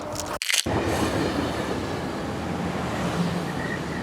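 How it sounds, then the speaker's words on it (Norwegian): A train passes close by in a snowy winter landscape near Voss, Norway, with a loud sustained rumble and rail rattle that carries on steadily after a brief handling knock at the start. "der kommer toget"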